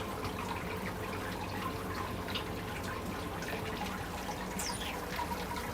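Water trickling steadily during sparging of grain for home brewing, a faint continuous dribble with light drips, no voices.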